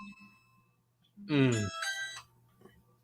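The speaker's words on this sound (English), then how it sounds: "Yeah, that was my doorbell." A Ring electronic doorbell chime plays a short two-part melodic tone, clear and fairly loud over a quiet room hum.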